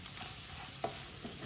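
Turmeric and spices frying on a low flame, a steady soft sizzle running throughout with a brief stirring scrape near the middle, close and alone.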